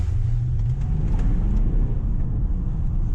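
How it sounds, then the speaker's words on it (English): A 2017 Range Rover TDV8 Autobiography's V8 engine rumbles steadily while driving in traffic, a low, dense drone heard from inside the cabin at moderate level, with no talk. "You heard the V8, right?"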